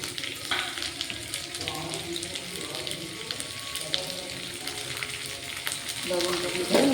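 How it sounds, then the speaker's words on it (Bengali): Chopped onion dropped into hot oil with a bay leaf, frying in a busy sizzle broken by stirring and clinks, with a burst of louder activity near the end. "এই পেঁয়াজটা কুচি করে রাখা পেঁয়াজটা প্রথমে দিয়ে দেবো ভাজতে।"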